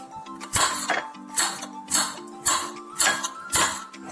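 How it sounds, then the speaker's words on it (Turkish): Sharp knife chops strike a cutting board about seven times in an even, unhurried rhythm, close by, with no talking, as garlic is chopped. "sarımsağı da kırda kırda doğrayıp"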